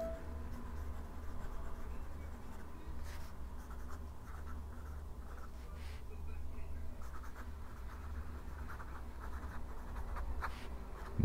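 A Pelikan M200 fountain pen with a wet medium nib writes on paper, giving soft, close scratching strokes in short bursts over a quiet room hum, with no talk.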